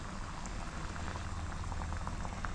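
Drumstick curry cooked in milk thinned with water simmers over low heat, a steady close-up bubbling and soft popping that continues evenly throughout with no voices.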